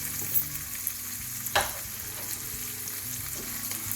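Cooked rice hits a pan where prawns and tuna are already frying, giving a steady close sizzle with a sharp crackling burst and a few stirring scrapes, and nobody speaks.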